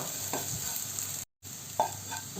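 Chillies are stir-fried in a pan for a Thrissur-style coconut thoran, with a continuous close sizzle and a few soft spatula scrapes, briefly cut by a moment of silence, with no voices.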